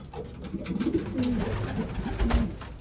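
Racing pigeons coo in their loft, soft repeated throaty calls rising and falling over about three seconds against a steady background hum, with no talking.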